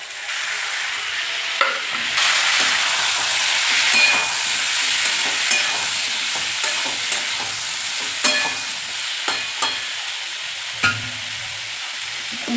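Cumin, green chilli, tomato and peas frying in a pan with potatoes, a continuous sizzle broken by repeated scraping clinks of a spoon stirring against the pan, close and without talk.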